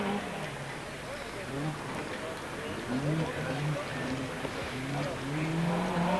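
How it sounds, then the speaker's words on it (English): An Opel Manta rally car engine threads around the back of a race course, a steady loud revving drone with shifting pitch, under continuous commentary. "No mistaking that Opel sound as he threads his way around the back of the course"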